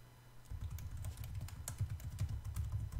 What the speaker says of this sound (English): in the host name, I will type the host I want to connect to